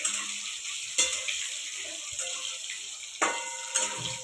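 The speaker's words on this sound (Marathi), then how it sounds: "तेलामध्ये खूप चांगलं फ्राय करून घ्यायचं आहे।" Soya chunks frying in oil give a faint, steady hiss, with a few sharper stirring knocks and splashes now and then, quiet and close with no voices.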